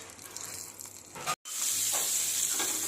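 Hot tempering with curry leaves, garlic and turmeric poured into raw tamarind soup, giving a loud burst of sizzling and hissing after a brief silent gap, continuing as a bright steady fry.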